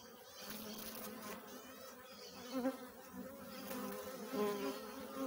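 Honey bees in a hive buzz during feeding on a honey paste, a close, continuous humming drone with fluctuating intensity and wingbeat flutter, fairly quiet throughout.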